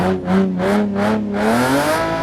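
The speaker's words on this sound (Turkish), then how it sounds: "Şöyle bir çalıştıralım aracımıza" A BMW M4 engine in Euro Truck Simulator 2 starts and settles into a loud, close idle. The tone rises and falls in a few pulsing revs, then holds steady.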